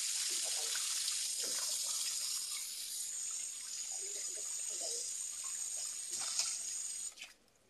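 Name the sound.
washing food under running tap water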